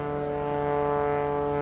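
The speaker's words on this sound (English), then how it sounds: "Cadet Rahim will probably leave the helicopter just a little bit past us to account on the wind" A helicopter at an airshow hovers for parachutists, a steady, droning rotor-engine hum with a strong low tonal buzz, constant and loud throughout, with no voices.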